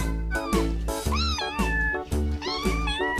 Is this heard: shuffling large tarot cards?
no